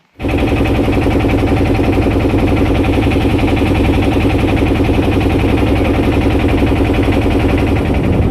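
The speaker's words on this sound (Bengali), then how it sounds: "এখন আমরা নৌকার মধ্যে বসে গিয়েছি দেখেন আমরা নৌকাতে পার হবো" A boat's motor runs steadily while crossing the Brahmaputra river, a loud, continuous low engine drone with a fast vibrating pulse that starts right away and holds evenly throughout, with no talk over it.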